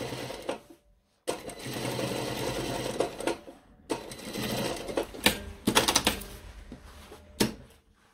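A sewing machine topstitches 1 mm from a trouser seam in several bursts of rapid stitching, stopping and restarting, with short pauses between runs.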